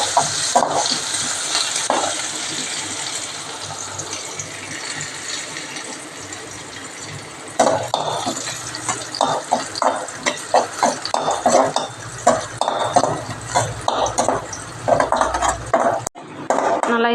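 Small onions and cumin sautéing in oil in a pan for cauliflower gravy, a soft sizzle under repeated spatula scrapes and metallic stirring clatter, with some speech in the background.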